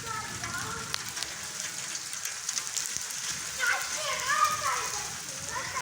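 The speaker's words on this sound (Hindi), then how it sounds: "ऊपर से अभी बारिश आ रही है।" Heavy rain falls outdoors in cool weather, a continuous hiss of dense drops, with people talking over it.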